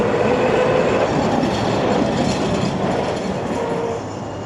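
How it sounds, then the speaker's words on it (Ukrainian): A tram rolls along a spacious city street in Odesa, a loud, steady rumble and clatter of wheels on rails close by that eases slightly toward the end, with no talking. "Щоб нам трамвайчик не заважав, спокійно насолоджуватись архітектурою, будинками."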